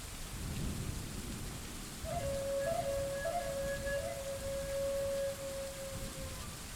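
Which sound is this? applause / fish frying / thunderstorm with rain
thunderstorm with rain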